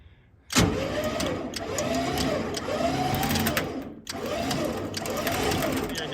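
A winch whines in repeated rising and falling pulls as it lowers an off-road truck onto a chain during a recovery, with an engine idling underneath and a brief pause partway through.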